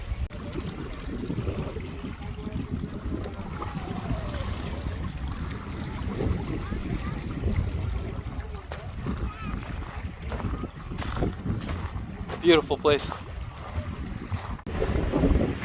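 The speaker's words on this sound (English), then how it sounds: "Really windy here on this side of the park." Strong winter wind at Point Pleasant Park in Halifax, Canada buffets the microphone with a steady low roar throughout, and a person speaks briefly partway through.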